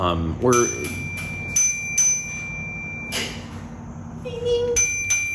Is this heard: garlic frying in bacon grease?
no